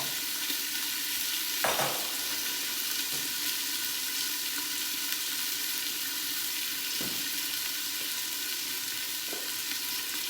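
Grilled chicken browns in a Saladmaster skillet with the lid half on and slightly ajar, giving a steady, even sizzle close by, with a few brief clinks of utensils and no talking.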